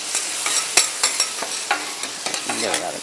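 Beef frying in a pan while being stirred, with sharp scraping strokes of the utensil over a steady sizzle, close and fairly loud, no voices.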